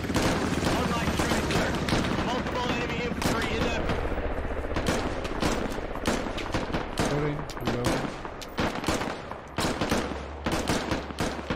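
Gunfire in the tactical shooter Squad: rapid bursts of automatic rifle fire and single cracking shots, loud and close, coming in irregular volleys over a low background rumble, with players talking between the shots.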